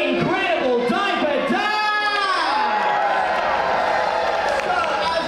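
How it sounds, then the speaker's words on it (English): A crowd gathers in the atrium of the Disney Fantasy cruise ship on Pixar Day at Sea, a steady murmur of many voices with shouting children and scattered cheers throughout, and one voice rising and falling in pitch near the start. "Looks like we're gathering a pretty good crowd at this point."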